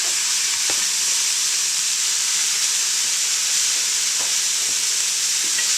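Garlic and a large onion fry and brown in a pan for chili, giving a steady, close sizzle and hiss with a few soft stirring clicks throughout, no voices.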